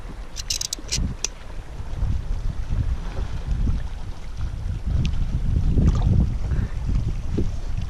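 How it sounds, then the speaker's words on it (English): Wind gusting across a fishing boat on open water, a continuous low buffeting roar into the microphone that builds toward the end, with a few faint clicks early on. "That wind's a real pain."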